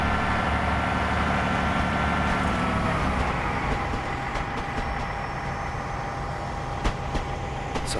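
A train running in Train Simulator 2015 on the Liverpool to Manchester route, power shut off near 20 mph: continuous low rumble and engine drone with faint rail clicks, steady and moderately loud throughout.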